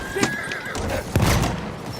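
In a Great War battlefield video game, a horse whinnies in a thin, wavering cry near the start. Heavy rumbling and thumping game noise runs underneath, with a louder impact midway.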